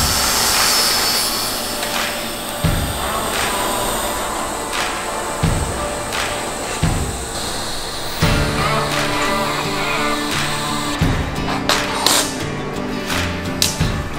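Someone grinds a metal dash mount bracket clean for a 2019+ GM 1500. A loud, continuous abrasive whine runs throughout, surging at intervals, with no talking.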